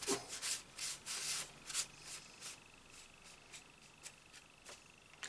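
Teak oil is rubbed onto an axe blade, head and pole with a cloth in short, faint strokes. Soft scuffing comes in an irregular rhythm, close but quiet.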